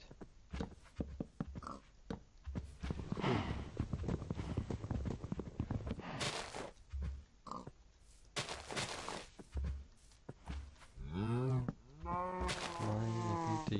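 Farm animals in a video game, including horses and cattle, make a busy mix of hoof clip-clops, moos, whinnies and other animal calls, coming in irregular bursts at varying loudness.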